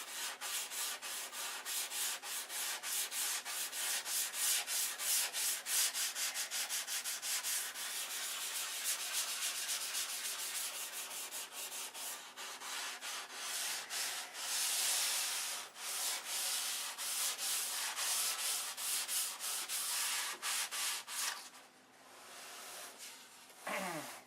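Sandpaper rubbing over DC 540 primer on a model airplane wing, producing a continuous close scratchy hiss of rapid back-and-forth strokes that softens slightly toward the end.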